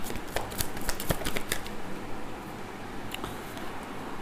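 Tarot cards are shuffled and drawn by hand, a close, dense riffle of papery flicks for about a second and a half that thins into softer, scattered card slides.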